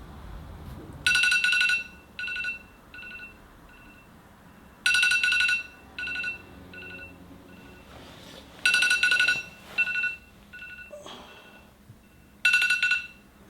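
A morning wake-up alarm set for 6:30 rings in repeated bright electronic bursts, each about a second long with short beeps trailing after, separated by pauses, fairly loud and close with no speech.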